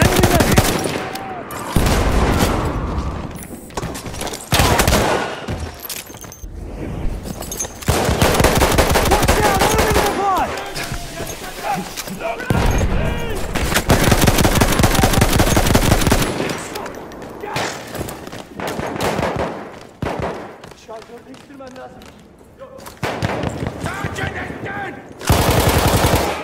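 Video game combat with loud, sustained machine-gun bursts and repeated gunshots in long rapid volleys, separated by brief pauses, with a voice calling out over the firing.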